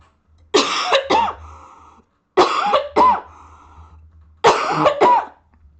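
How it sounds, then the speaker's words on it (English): Three harsh coughing fits, each a quick double cough, spaced evenly with quiet pauses between, loud and close. "I have a cough."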